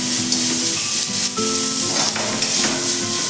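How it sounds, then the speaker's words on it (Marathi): Ginger, garlic, coconut and coriander paste sautéing in a pan over low heat, a steady close sizzle with scraping stirring strokes, no talk. "हे दोन्ही वाटण छान असे आपल्याला परतून घ्यायचे आहे।"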